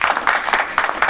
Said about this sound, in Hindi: जोरदार तालियों से इनका स्वागत है।